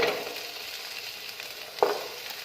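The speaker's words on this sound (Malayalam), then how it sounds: "അതിലേക്ക് നമുക്ക് ഒരു സവാള, ഇതുപോലെ നീളത്തിലരിഞ്ഞ സവാള ചേർത്ത് കൊടുക്കാം." An onion sliced lengthwise sizzles in two tablespoons of hot oil in a pan for a Spanish omelette, a steady close crackle with one brief louder hiss as it is stirred, and no talking.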